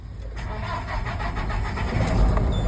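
A truck engine cranks on the self-starter and catches into a steady low rumble that builds and continues to idle, heard up close with little else around it.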